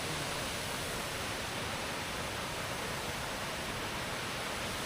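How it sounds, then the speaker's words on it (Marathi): A small waterfall crossed on a slippery hillside trail gives a steady, dense rushing hiss, loud and unbroken throughout with no voices over it. "आपल्याला हा जो छोटासा धबधबा आहे ना, हे क्रॉस करून वर जायचं आहे"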